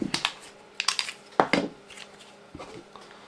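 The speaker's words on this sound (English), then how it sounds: "If I drop the mags" Pistol magazines drop free from a CZ P10-M and a Glock 43X, making a handful of sharp metallic clacks and rattles in two close bursts with quieter gaps between them, and no talking.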